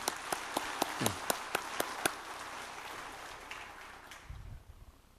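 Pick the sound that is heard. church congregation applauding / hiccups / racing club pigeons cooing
church congregation applauding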